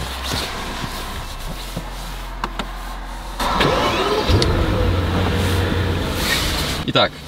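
A Maybach car engine cranks and catches about halfway through, then settles into a steady idle, with a few clicks and small knocks before it starts.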